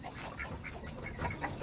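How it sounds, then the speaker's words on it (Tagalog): A large drake quacks in several short, faint, raspy calls, irregularly spaced over a noisy outdoor background, with no clear speech. "Kalaki naman tong barako na tong pato."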